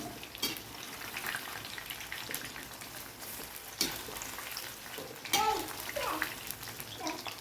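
Chilli chicken fries in a pan, a steady close crackling sizzle with a few sharper stirring clatters and scrapes breaking through.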